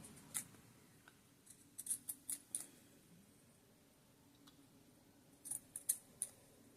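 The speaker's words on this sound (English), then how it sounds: "we're going to cut some of this fabric off" Scissors snip through fabric while sewing a top, in several short crisp cuts grouped near the start and again near the end, close and fairly faint in a quiet room.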